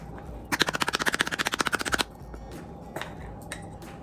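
A makeup powder compact is banged hard against a surface in a fast, even burst of about twenty sharp knocks, followed by a few scattered, fainter taps in a quiet room.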